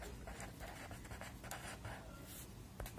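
Pen or pencil scratches across paper in short strokes, working out a math problem close to the microphone, faint and continuous with no voice over it.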